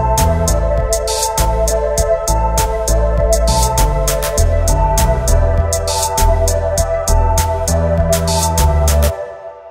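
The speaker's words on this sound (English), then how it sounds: "is what we call an ostinato, which sounds something like this." An EDM synth lead plays an ostinato, one short one-bar motif repeated over and over, loud and bright over a steady beat with bass underneath, ending abruptly after about nine seconds.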